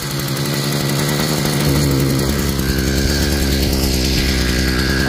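A Thunderbay Y43 gas earth auger's small two-stroke engine runs at a high, fast idle from a carburetor fault with its idle screw turned too far up, a loud, steady buzzing drone with a slight shift in pitch partway through, no talk.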